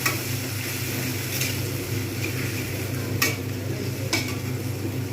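Ginger garlic paste thinned with a little water sizzles steadily in a hot pan while it is stirred, a close, even frying hiss broken by a few light clicks of the utensil, with no voices.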